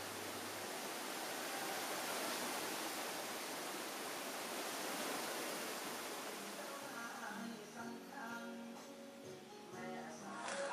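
A mountain stream runs below a rainy-season lodging at Mae Kampong, a steady broad rush of flowing water that fills the scene, fairly faint, with a few soft tonal sounds and a hint of voices creeping in near the end.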